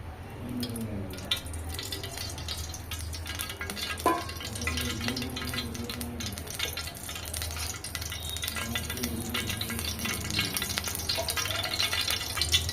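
Tempering spices crackle and fry in hot oil in a kadai for a radish chutney, a soft continuous sizzle with light stirring scrapes and small pops throughout.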